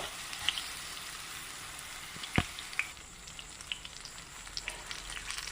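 Battered jackfruit pieces sizzle in a pan of hot oil for a traditional Kerala evening snack, a steady close frying hiss with scattered small pops and crackles.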